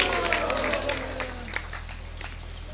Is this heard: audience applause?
yes